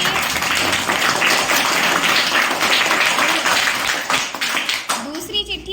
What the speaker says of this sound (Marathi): चला टाळ्या वाजायच्यासाठी